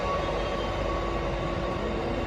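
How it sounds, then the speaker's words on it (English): Freight trains rolling through Ealing Broadway station make a steady, loud, continuous rumble with faint high tones riding on top, with no voices. "The amount of trains here this morning is colossal."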